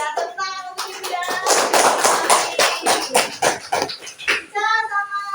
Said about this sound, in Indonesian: Tepuk tangan untuk ibu ya